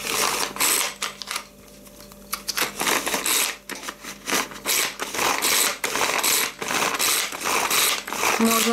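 Cheap manual hand-operated food chopper grinding food, a steady run of loud mechanical ratcheting, clicking and churning that pauses briefly near the start and then continues without talk.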